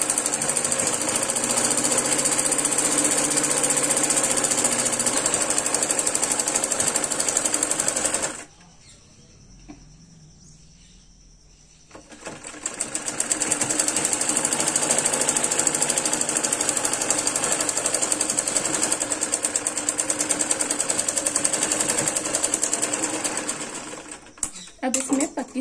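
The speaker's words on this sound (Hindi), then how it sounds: "इसको पूरे को सिलाई लगा देंगे।" Sewing machine stitching a seam along the leg joint of a designer salwar, running in loud, steady mechanical bursts with a short pause in the middle before resuming.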